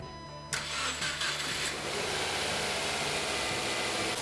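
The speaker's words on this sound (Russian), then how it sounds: "Теперь отключаю зарядное и запускаем двигатель для прогрева." A car engine, just taken off a battery charger, cranks for a split second, then catches and settles into a loud, steady, close-up run for warm-up.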